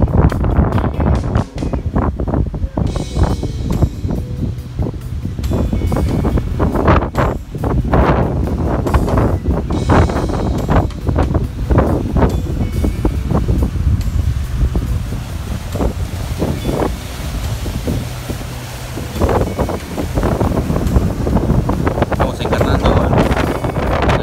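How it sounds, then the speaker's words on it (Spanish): Strong wind and rough waves at sea near Kibón, about 1000 metres off a dive pier, heavy gusts buffeting the microphone with waves sloshing against a small boat, loud and continuous. "Un viento bárbaro, un oleaje bárbaro."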